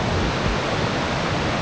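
A river near Ubot Falls in Villa Aurora, Philippines, flowing between mountains, heard as a loud, unbroken roar of rushing water that fills the scene with no talking.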